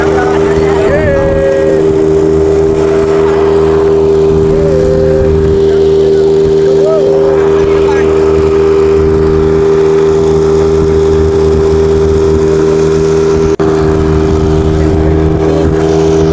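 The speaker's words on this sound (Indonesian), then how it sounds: "Naik speedboat." A speedboat engine drones loud and steady throughout, close and constant, with faint voices underneath.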